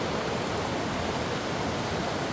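Foaming water rushes down a forest stream in Attappadi, a dense, even, steady roar of flow that fills the whole moment without voices.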